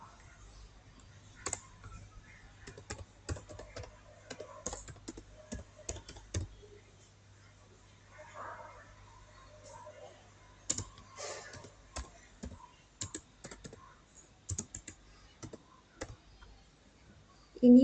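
Someone is typing on a computer keyboard while configuring VLANs. Scattered, irregular keystrokes and clicks sound quiet and close, with a few heavier presses like the enter key and pauses between bursts.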